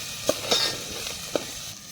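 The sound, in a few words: stirring food frying in a pan for aloo paratha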